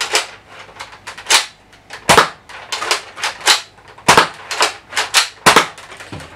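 A Nerf Modulus Battlescout blaster being primed and fired, giving a series of sharp, close plastic snaps and clacks in an irregular rhythm, about a dozen distinct cracks with no talking.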